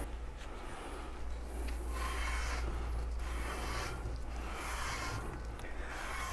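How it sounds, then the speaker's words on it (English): Back-and-forth rubbing as a microfiber towel wiped with alcohol cleans the surround and spider landings of a 10- or 12-inch woofer basket during a recone, a soft, close, steady swishing in repeated strokes under a low hum. "I'm going to go ahead and use some alcohol and a microfiber towel, and I'm going to clean both the surround landing and spider landing."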